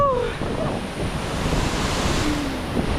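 A waterfall hidden near Grahan village rushes and splashes in a dense, steady roar of water mixed with wind buffeting the microphone, loud and continuous throughout.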